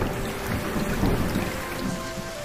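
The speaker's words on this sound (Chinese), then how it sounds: "下雨了，快快快，" Rain pours down in a steady, dense wash of patter with a low rumbling undertone, continuous and close, with no voices.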